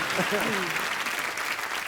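A studio audience on a Hindi comedy talk show breaks into loud, sustained applause for A.R. Rahman, with a voice speaking briefly over the clapping.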